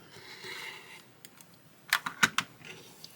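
Fabric for a quilt block being trimmed, with a short cluster of sharp, crisp cutting snips near the end after a quieter rustling stretch.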